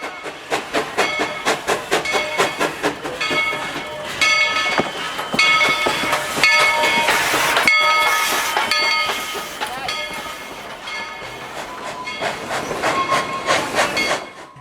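A steam train at Tweetsie Railroad chuffs rhythmically as it pulls into the station, with hissing steam and clanking wagons close by, the beat slowing then picking up again.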